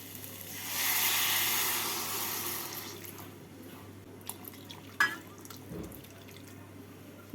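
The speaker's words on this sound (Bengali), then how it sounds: "এর মধ্যে আমি দিয়ে দেবো দু কাপ গরম জল" Two cups of hot water are poured into lentil dal in a pot, a broad hissing splash that swells for a couple of seconds then thins into trickles and a few small knocks.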